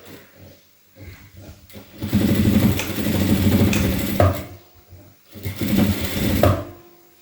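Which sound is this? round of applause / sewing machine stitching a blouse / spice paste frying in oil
sewing machine stitching a blouse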